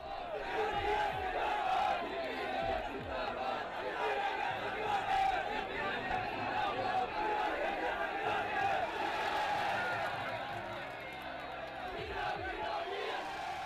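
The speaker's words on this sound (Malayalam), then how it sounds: "VS എത്തി. ആരവം അണപൊട്ടി." A large election campaign crowd roars and cheers as VS Achuthanandan arrives, a dense sustained wall of shouting voices, loud and continuous, easing slightly near the end.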